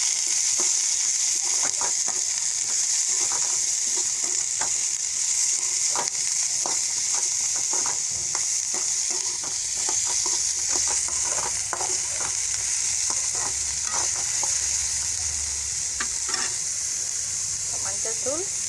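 Beetroot stir-fried in a pan for a South Indian beetroot masala side dish, with a steady, close sizzle and frying hiss broken by scraping stir strokes throughout.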